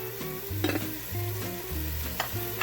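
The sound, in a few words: butter sizzling with onions in a pan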